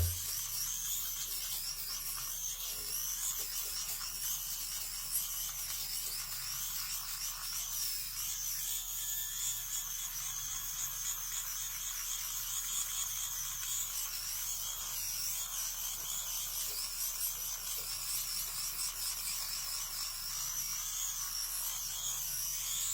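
A compact men's Flawlbss electric shaver buzzes steadily while cutting short stubble, a continuous high-pitched whirr held close throughout with no speech.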